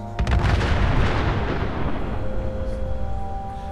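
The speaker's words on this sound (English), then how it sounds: "there's a good double shot of the bombs coming in." Big Boy mini-nuke explosions in Fallout 4 rumble as a dense, sustained roar with a heavy low-end boom that starts sharply and slowly fades, loud throughout with no talking.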